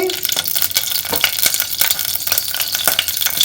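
Dried red chillies sizzle and crackle in hot oil in a pan while cooking bendakaya pulusu, a close, continuous bright frying hiss with irregular pops and stirring scrapes.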